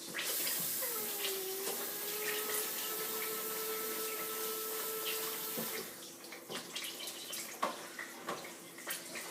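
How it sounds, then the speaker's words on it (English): Water pours into a blender jar of whole ingredients for homemade peach BBQ sauce, a steady close splashing stream with a rising tone as the jar fills, then stopping, followed by a few scattered knocks and handling sounds. "Come and get some water in this."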